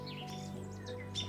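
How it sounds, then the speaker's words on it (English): Birds call and chirp in a forest, with scattered thin tweets and song phrases over a steady low hum, moderately distant and fairly quiet, no talking. "I hear chickadees and robins and geese and frogs"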